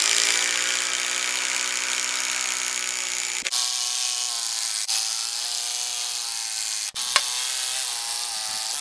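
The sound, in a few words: driving timber screws into Simpson CBT4Z post connector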